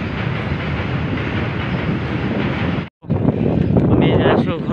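A train rolls past close by near the Naranarayan bridge in Goalpara, a loud, dense rumble with wind buffeting the microphone, briefly cut off for a moment before the clattering resumes.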